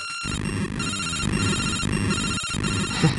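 Rapid, trilling electronic ringing like an old telephone bell from Gauntlet of Flame turrets in Super Mario Land 3: Wario Land, repeating continuously in a busy cluster of tones with game-like clatter underneath.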